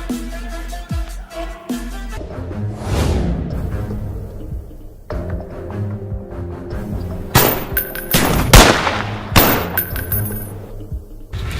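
Gunfire from the video game PUBG, with several sharp bursts and single shots scattered across the clip over game music and ambient sound, fairly loud and close, with no talking.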